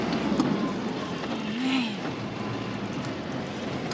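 A car drives along at a steady cruise near a police checkpoint, its engine and road noise forming a continuous broadband rumble that swells slightly midway, with no talk.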